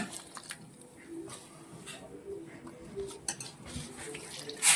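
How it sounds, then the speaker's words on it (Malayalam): Chopped elephant foot yam stems are washed in water in a pot, making quiet, irregular splashing and soft clinks of the vessel, with a louder knock at the very end. "നമ്മൾ അരിഞ്ഞ ഈ തണ്ട് നമ്മളൊന്ന് നന്നായിട്ട് കഴുകി എടുക്കുവാണ്."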